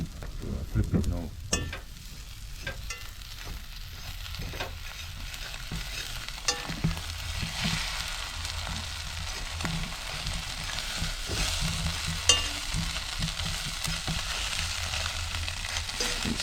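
Eggs sizzle steadily in a hot pan while being stirred and scrambled, with occasional scraping clicks from the utensil over a continuous frying hiss, with no talking.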